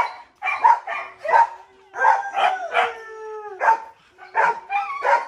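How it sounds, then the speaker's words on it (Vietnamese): Dogs at a breeding kennel housing Huskies, Golden Retrievers and Corgis bark and yelp in repeated loud bursts, with a howl drawn out between them, several animals close by. "Quá trời chó."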